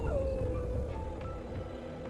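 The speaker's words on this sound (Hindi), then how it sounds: "कुत्ते रोने लगे।" Dogs whining and howling as a spooky story sound effect, a continuous low, mournful wail with a thin sustained tone running through the whole stretch, moderately loud and steady without talk.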